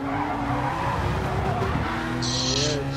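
Race car in Gran Turismo online racing at Laguna Seca sliding loose off the gravel, a loud continuous engine roar with tire skid and squeal layered over steady broadband road noise.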